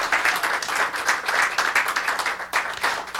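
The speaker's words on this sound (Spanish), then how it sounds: "Denle un aplauso al Señor si usted lo cree." A church congregation claps together during a Spanish-language sermon, producing a steady, dense wash of hand claps in a loud, continuous burst lasting a few seconds.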